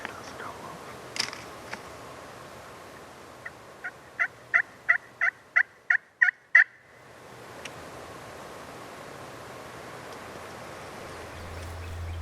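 Wild turkeys gobble on Mississippi public land: a rapid series of about a dozen sharp, evenly spaced calls rises in the middle, fairly distant over quiet outdoor air, with faint whispering nearby.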